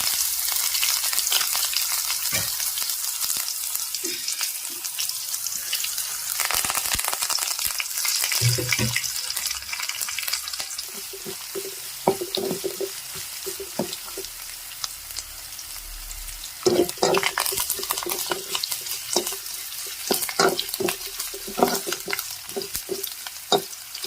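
Onion, ginger and cumin fry in a pan for a Kerala pumpkin and curd curry, giving a loud, close, continuous sizzle broken by repeated stirring clinks and scrapes, with no talking.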